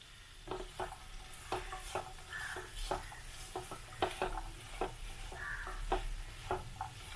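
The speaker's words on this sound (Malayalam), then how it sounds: "നമുക്ക് നന്നായിട്ടൊന്ന് ഇളക്കി യോജിപ്പിക്കാം" A spoon stirs cooked chickpeas and grated coconut through a pan dish, making quiet, irregular scraping and clinking knocks over a faint sizzle.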